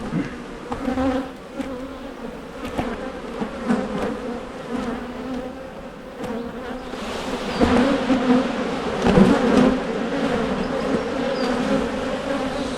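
Bees buzz around an open hive during an inspection, a dense continuous hum close by with individual insects droning past and swelling louder toward the end.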